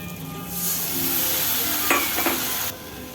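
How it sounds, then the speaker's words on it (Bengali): A spice paste of salt, turmeric, red chilli and Kashmiri chilli powder with a splash of water hits a hot pan for egg curry, bursting into a loud, steady sizzle with brief stirring scrapes before it cuts off. "সামান্য জল দিয়ে ভালোভাবে মশলাটাকে কষাবো"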